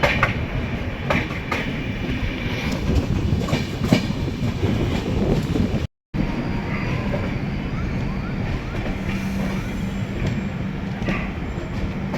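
WAP-7 electric locomotive hauling a late-running AC special train out of Tiruppur station, wheels clattering over rail joints in a steady, continuous rumble with rhythmic clicks, close and loud throughout.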